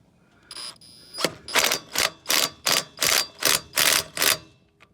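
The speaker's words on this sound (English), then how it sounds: "Put the socket on the impact, and your next step is going to be taking off each and every one of these bolts" An impact wrench hammers in a fast series of about eight sharp, evenly spaced bursts while removing lug nuts from a wheel, close and clear with no talking.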